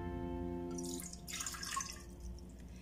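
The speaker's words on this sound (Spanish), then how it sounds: "Vas a agregar la taza de agua que te pedí." Water from a cup poured into a small cooking pot holding chicken, a watery splashing burst over a steady background hum, heard alone without talk.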